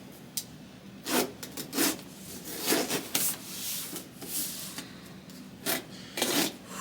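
Old duct tape wrapped around a 1999 time capsule is cut and torn through in a series of close, scratchy rasping strokes, each short burst separated by brief pauses.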